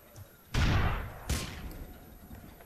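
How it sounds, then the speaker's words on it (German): Two sharp gunshots ring out in GTA IV, each a loud crack with a short echoing tail, spaced under a second apart against quiet game ambience. "Irgendwo hier kommen immer Schüsse her."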